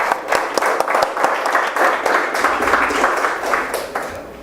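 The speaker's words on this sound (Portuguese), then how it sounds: "mandar uma salva de palmas para" Applause in a municipal council chamber in Criciúma honoring a hospital, loud and close with distinct individual claps merging into steady clapping that tapers slightly at the end.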